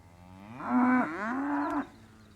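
A calf moos on a farm beside newly introduced electric fencing, a single drawn-out, fairly loud bellow that rises and holds, alone with no talk over it.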